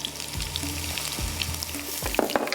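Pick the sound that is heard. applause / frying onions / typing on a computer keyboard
frying onions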